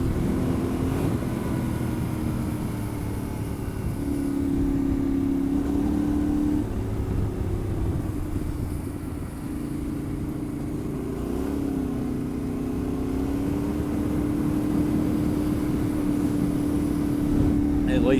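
A Yamaha Tenere 700 adventure motorcycle cruises along a gravel road, its engine droning steadily with slight rises in pitch and a constant rush of wind, while a rider talks over it.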